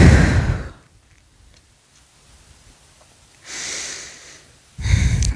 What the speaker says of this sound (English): Can you hear your breath?